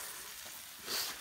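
Food sizzles in a pan over an outdoor bushcraft campfire in Zonguldak Değirmenağzı, a faint, steady hiss that swells briefly toward the end.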